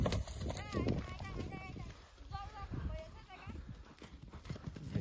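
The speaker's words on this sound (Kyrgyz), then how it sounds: "Бияка чабып койдум." A galloping four-year-old mare beats out steady clip-clopping hoofbeats up close, with someone talking over them throughout.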